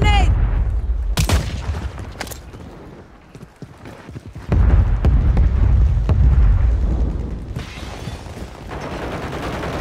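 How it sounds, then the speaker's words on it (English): A grenade in Call of Duty Warzone goes off with a heavy boom at about four and a half seconds, amid sharp bursts of gunfire and game noise, loud and close. "Throwing grenade."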